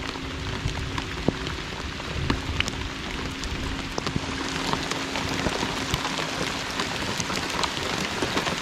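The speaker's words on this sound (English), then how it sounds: "Oh my God, it is pouring down rain" Heavy rain pours down over a lake during fishing before a thunderstorm, a loud, dense, steady hiss of drops hitting surfaces with scattered sharper splats close by.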